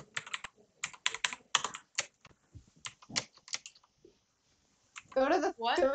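Computer keyboard typing comes in quick bursts of sharp clicks with short pauses, close and fairly loud, with a brief stretch of louder clattering at the end.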